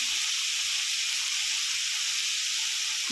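Dal frying in a pan with salt and onion, giving a steady, even sizzle and hiss that holds close and constant throughout with no talk.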